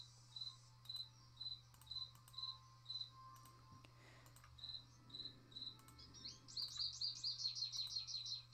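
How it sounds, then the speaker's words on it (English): A bird chirps inside the Nancy Drew: Ghost Dogs of Moonlake game: a run of evenly spaced, clear chirps, then a faster bright trill, heard over a steady low hum with no talking. "Yep, we got our bird friend again."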